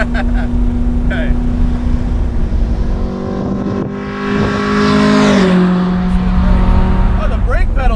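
A modified 1966 Alfa Romeo Giulia GT engine drones steadily while driving, its tone rising and falling as it revs and shifts, loud and close with a voice speaking over it.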